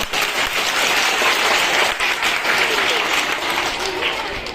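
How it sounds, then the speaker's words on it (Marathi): Children at a village primary school safety counselling camp clap in sustained, dense applause lasting several seconds, with voices speaking over it. "तुम्हीच तुमच्यासाठी टाळ्या वाजवल्या तर बरं होईल"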